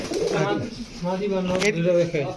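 Pakistani high-flyer pigeons coo close by in low, throaty rolling calls, with a person talking at the same time.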